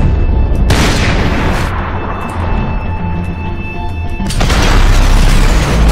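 Rapid gunfire and booming shots in the video game Max Payne 3, loud and sustained in dense bursts with a break in the middle before another heavy volley.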